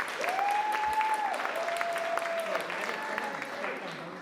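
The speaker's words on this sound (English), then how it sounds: "thank you for that round of applause" An audience applauds at the Minnesota Watercolor Society spring exhibition opening at an arts center, a moderate steady patter of hands in a room lasting a few seconds, with a faint voice and a tone beneath it.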